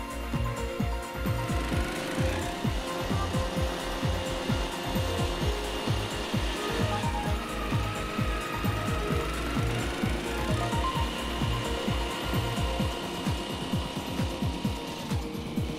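A greensIRON 3900 with a turf ventilator attachment works across a golf green, giving a steady, loud mechanical chatter with rapid rhythmic knocking that runs continuously throughout.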